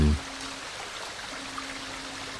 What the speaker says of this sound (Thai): ต้นกำเนิดเสียงที่ดังอยู่นั้น น่าจะมาจากเสียงน้ำตกเล็กๆ ที่อยู่ด้านบน